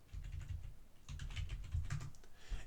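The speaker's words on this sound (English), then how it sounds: "I will type my password." A password typed on a computer keyboard under Ubuntu Linux, quick soft key clicks in short bursts, close and quiet with no voice.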